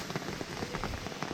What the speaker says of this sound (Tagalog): Malakas pa naman ulan dito guys